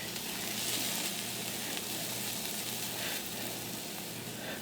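Food for Hatch chili breakfast tacos sizzles in a hot pan, a steady, dense frying hiss that continues unbroken throughout, close and fairly quiet.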